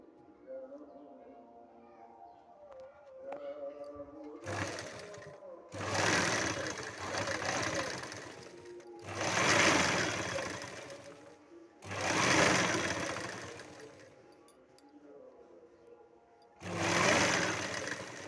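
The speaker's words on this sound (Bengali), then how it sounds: "উল্টিয়ে নিয়ে এই যে একদম ধার দিয়ে আমি সেলাই করব" A sewing machine stitches along the edge of a round-neck nightie in about five separate bursts of rapid mechanical whirring, each lasting a couple of seconds, with short quiet pauses between them.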